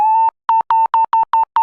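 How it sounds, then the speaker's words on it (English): A self-oscillating filter on an Arturia MiniBrute synthesizer with resonance turned up gives a loud, steady high-pitched sine tone. One long note is followed by a run of evenly spaced short bursts, with no voice. "So now you can hear the cutoff and the resonance is causing that sine,"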